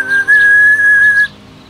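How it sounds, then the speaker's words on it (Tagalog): A single sustained, oddly wavering whistle from a boy in a Filipino audiobook story, loud and close, holding one pitch for about a second before stopping abruptly. "biglang nakita niyang sumipol ng kakaiba ang lalaki at saka tumigil sa pagsipol"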